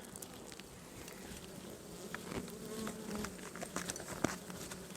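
Honeybees buzzing at a beehive frame in mid-May, a faint continuous hum of many insects with individual bees droning close by now and then.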